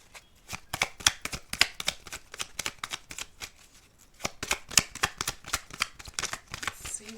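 Tarot cards being shuffled by hand, a close, quiet series of crisp riffling flicks and taps in irregular bursts with a brief pause midway.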